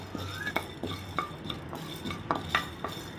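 Pepper is stirred and dry-roasted in a pan for tamarind rice, with a series of light scraping clinks of a utensil against the metal at an uneven rhythm, quiet and close with only a faint sizzle.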